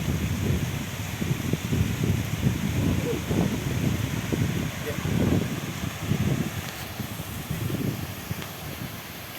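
Strong wind sweeps a beach at Port Nolloth with heavy surf, buffeting the microphone in continuous low rumbling gusts for the whole stretch.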